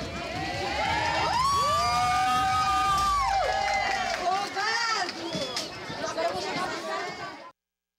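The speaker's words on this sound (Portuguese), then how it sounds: "um trabalho da polícia sendo aplaudido por uma comunidade que não aguenta mais violência" A neighborhood crowd cheers and shouts for police, a loud, dense mass of voices with high whoops and rising calls that carries on steadily for several seconds before cutting off abruptly.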